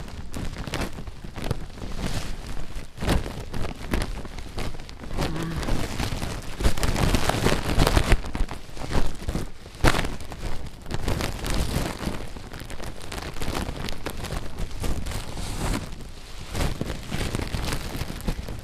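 Light rain falls steadily outdoors, a continuous hiss of drops on surfaces with some wind, moderately faint and alone for the whole stretch.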